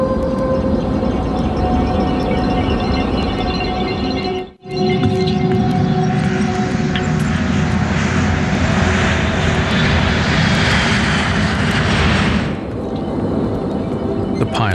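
Alaska Airlines Flight 261, an airliner with a jammed stabilizer, flying off the California coast near Los Angeles: a loud, steady jet engine roar fills the whole span, with one brief dropout just before the midpoint.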